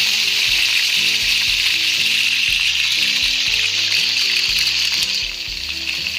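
Spinach sizzling hard in a hot pan for an oyster sauce stir-fry, a loud, dense and steady hiss of frying that eases slightly near the end, with faint background music underneath.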